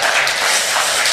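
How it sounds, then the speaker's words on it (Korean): A church congregation at a Sunday worship service claps its hands in a brief, dense burst of applause. "다시 한번 박수하겠습니다."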